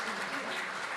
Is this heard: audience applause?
yes